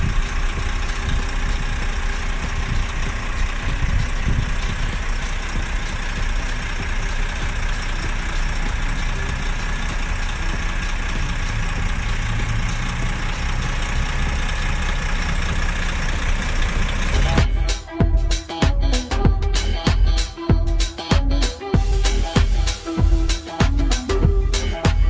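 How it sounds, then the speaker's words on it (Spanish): Volvo B380R bus engine running, a steady loud diesel drone and hum close by for most of the time, then shifting into a choppier, rattling pulse toward the end. "Escuchemos el motor Volvo en pleno funcionamiento."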